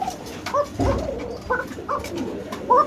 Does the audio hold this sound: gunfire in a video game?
no